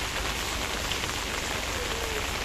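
Steady rain falls heavily and evenly, a dense continuous hiss of drops hitting a surface with no pauses.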